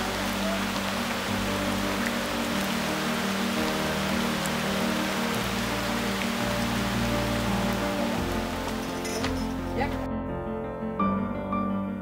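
Steady rain falls on a remote Indonesian farming village in a dense, continuous hiss over the whole stretch, with a low rumbling undertone and no voices.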